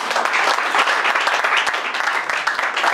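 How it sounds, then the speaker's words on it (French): Loud, dense applause from an audience at an entrepreneurship fair presentation, a thick continuous roar of clapping with no talk over it. "Est-ce qu'on peut applaudir pour Angel Moon?"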